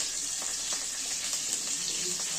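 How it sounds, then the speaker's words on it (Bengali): Green chillies and curry leaves sizzle in hot oil for chirer polao, a steady bright hiss of frying that runs unbroken and close throughout, with no voices. "কাঁচা লঙ্কা, আর কারি পাতা ফোড়ন দিলাম।"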